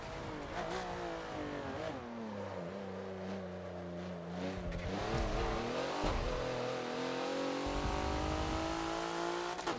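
Race car engine in Forza revving and accelerating through the gears around the Homestead super mini track, a steady loud drone with rising pitch sweeps and shifts, heard continuously for the whole stretch.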